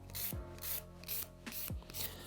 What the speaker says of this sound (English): lift the file off rather than sawing back and forth like that